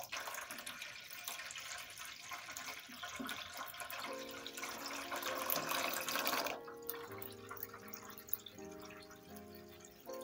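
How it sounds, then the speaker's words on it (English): Lukewarm tap water runs steadily into a tub for a bearded dragon's bath, a continuous close splashing flow whose pitch shifts partway as the water level rises, with no talking. "You want this to be plain lukewarm water."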